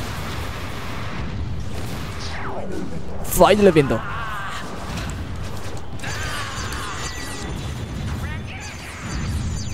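Explosions and mechanical clanking burst out mid-clip in a Kamen Rider video game, with a sharp sweeping effect, while someone talks over the action.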